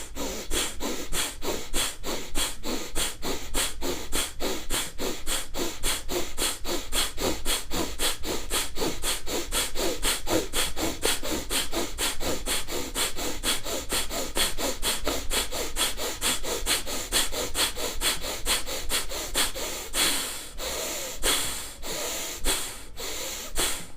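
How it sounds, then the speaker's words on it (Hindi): Fast Bhastrika pranayama breathing: rapid, forceful nasal inhalations and exhalations in an even, quick rhythm, close and continuous for over twenty seconds, with a few slower heavier breaths near the end. "अब मैं बताऊंगा आपको तेज़ गति से भस्त्रिका प्राणायाम किस प्रकार किया जाता है।"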